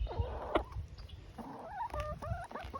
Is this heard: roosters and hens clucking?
yes